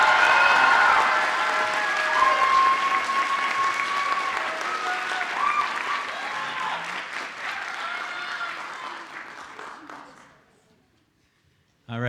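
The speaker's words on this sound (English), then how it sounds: "Now clap." An audience at a high school spring band concert applauds loudly and steadily for about ten seconds, the clapping fading out near the end before a brief voice comes in.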